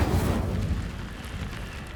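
Incendio fire spell cast in the Hogwarts Legacy video game, a loud roaring burst with a deep booming low end that flares at the start and sustains as a rumbling whoosh of flame for two seconds.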